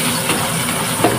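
Garlic dropped into hot oil for sarciadong tilapia: a steady, loud hiss of sizzling with a soft crackle, lasting just over a second.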